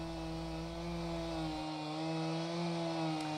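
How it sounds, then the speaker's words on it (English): Chainsaws run during storm damage cleanup in Ankeny, Iowa, after the August 2020 derecho, a steady buzzing engine drone held at an even pitch throughout, with no speech. "I can hear the chainsaws going"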